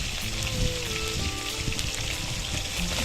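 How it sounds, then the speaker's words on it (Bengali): Chicken pieces coated with turmeric and salt fry in a kadai, giving a steady, dense crackling sizzle that carries evenly throughout with no talking. "মুরগিগুলো হলুদ লবণ দিয়ে ভাজিতে কড়াইতে বসিয়ে দিয়েছি।"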